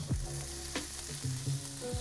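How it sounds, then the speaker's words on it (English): Red onions sizzle in a glug of hot oil in a pan turned down to medium heat, a steady close frying hiss with a few soft stirring scrapes and no voices. "Make sure the heat kind of turns down to about a medium heat so they're nice and sizzly."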